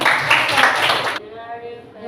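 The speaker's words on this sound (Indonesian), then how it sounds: "Tepuk tangan untuk kita semua." A classroom of students clapping together in a brisk, loud burst that stops abruptly, followed by a voice speaking.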